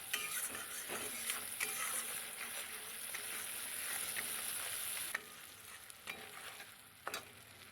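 Spice paste frying in oil in a pan for a fish curry, a steady close sizzle with repeated scraping stirs, fading quieter toward the end with a few sharp clinks.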